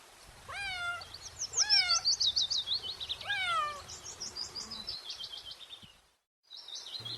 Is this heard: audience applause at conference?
no